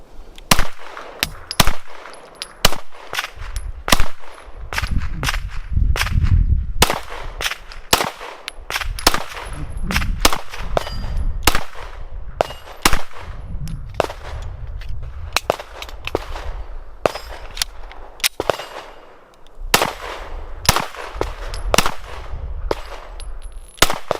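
Rapid, loud 9mm gunshots from a Gen 3 Glock 19 pistol at a shooting range, fired in quick strings of sharp, dense cracks with brief pauses between bursts across the whole span.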